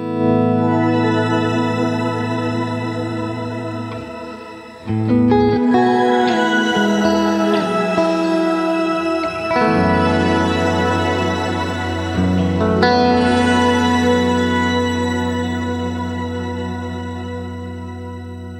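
Electric guitar through a Boss GX-100 with a shimmer delay set to 250 milliseconds: loud sustained chords ring out in three swells, each trailed by lush, octave-shimmering echoes and long reverberant tails, with no talk.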